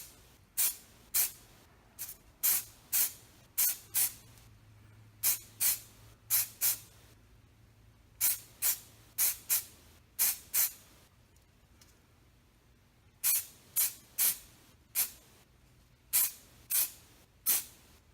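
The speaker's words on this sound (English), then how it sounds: "So it's going to be a couple of sprays here." An aerosol can of spray primer coats a miniature in short bursts, roughly two dozen crisp hisses in irregular clusters with quiet gaps between them, heard close and without speech.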